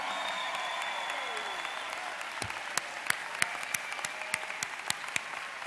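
Audience applause for new doctoral graduates at a university College of Education commencement ceremony, a steady wash of clapping from a large crowd with a few sharper claps standing out toward the end.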